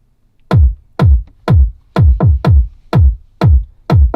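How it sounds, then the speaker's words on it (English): A big, fat electronic kick drum for a club track thumps in a steady four-on-the-floor pulse, deep and punchy, with one extra double hit, loud and alone without talk. "So you find a big fat kick drum"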